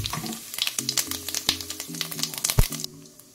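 Cumin seeds dropped into hot oil in a home kitchen pan, a crackling sizzle with sharp popping spits and a few louder pops, steady and close with no voices.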